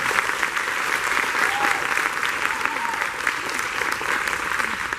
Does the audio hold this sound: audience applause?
yes